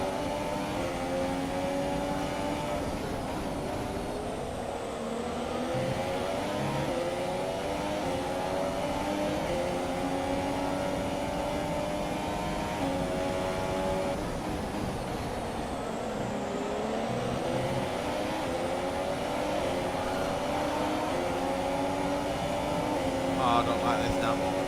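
Damaged race car engine in a racing video game, a steady droning whine with harmonic tones rising and falling across a long stretch, under a voice talking.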